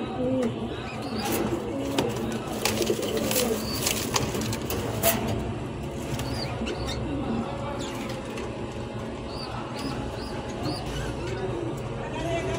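Siraji running pigeons coo softly at close range while a person talks over them, with scattered bird calls and light rustling throughout.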